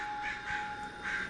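A dozen or more crows on power lines caw from a distance. Three or so harsh calls rise over a steady outdoor hum.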